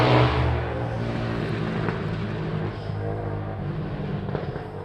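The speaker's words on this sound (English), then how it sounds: "Boy, noisy car." A noisy car passing close by a home garden, a loud broad rumbling roar that starts strongest and holds steady before easing slightly, with no talk over it.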